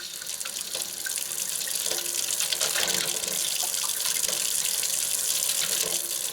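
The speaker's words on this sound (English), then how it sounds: "Wow, hot water." Hot water runs steadily from a newly installed Delta kitchen faucet with sprayer, a constant close hiss of flowing water splashing into the sink with no talk over it.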